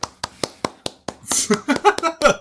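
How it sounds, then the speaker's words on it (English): A handful of sharp, close hand claps from podcast hosts, spaced and uneven, followed by quicker claps mixed with laughter and a bit of voice. "Round of applause, everybody."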